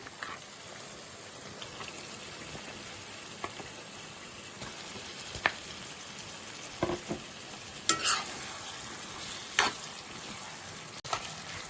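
Chicken pieces and softened tomatoes are stirred in hot oil in a pan, a steady quiet sizzle with occasional scraping clicks from the spoon, no one talking.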